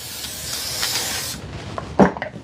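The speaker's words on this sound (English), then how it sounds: "Put a little spray on there." Cooking spray hisses onto parchment paper in a kitchen, one steady close spray lasting about a second, followed by faint clicks and handling noises.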